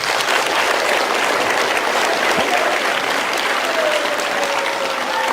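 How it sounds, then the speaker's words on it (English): Steady, dense applause from a crowd at a gathering runs loud and unbroken throughout, with no voices standing out above it. "Big round of applause."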